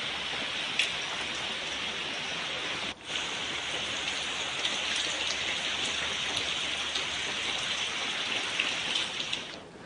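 Heavy rain falling in Jayapura, Papua, a dense, steady hiss of drops hitting surfaces with no letup, loud and close, with one brief dip partway through.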